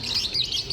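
Many birds chirp and tweet together at a busy bird market kiosk in Sidoarjo, East Java, a dense, bright, continuous chatter of overlapping calls.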